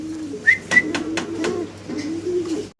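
Magpie pouter pigeons, a blue cock and a black hen, coo in low repeated bursts, close by, with a few sharper chirps over a steady background hum.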